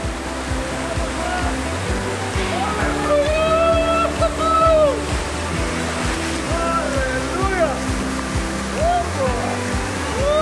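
Waterfalls in a national park in northern Portugal pour with a constant, full rushing roar, heard up close under a background of music with sweeping tones and no speech.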